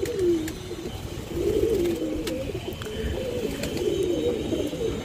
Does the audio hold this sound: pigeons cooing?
yes